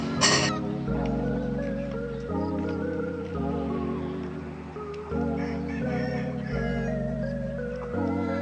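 Backyard farm chickens clucking while a rooster crows in repeated long calls, steady and fairly close, with the birds overlapping throughout.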